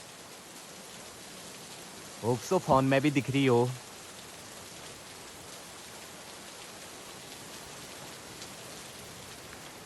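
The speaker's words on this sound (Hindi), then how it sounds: "बारिश काफ़ी तेज आ रही है" Heavy rain pours steadily as a dense hiss throughout at a riverside campsite by the Ramganga River, with a person speaking briefly near the start.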